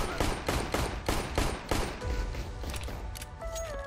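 Rapid bursts of automatic gunfire from a CS:GO match, about six sharp evenly spaced shots, then quieter clatter and faint tonal game sounds.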